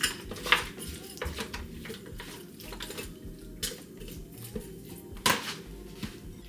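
A spoon stirs sweet onion into chicken in a pot, with scraping and clinking against the pot, some sharp knocks, and a watery sizzle underneath. It is close and alone, with no voice.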